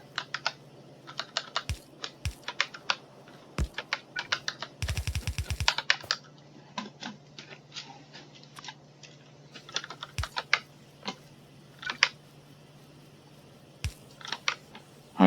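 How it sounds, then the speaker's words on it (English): Computer keyboard keys pressed in irregular bursts of close, crisp clicks, with a quick rapid flurry partway through, over a low steady hum during a Factorio game session; no talking. "don't press my keyboard"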